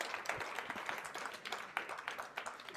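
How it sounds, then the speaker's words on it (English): An audience at a symposium in Chennai claps, a faint, scattered patter of individual hand claps at moderate distance, fairly quiet and uneven. "One round of a big applause for all of you."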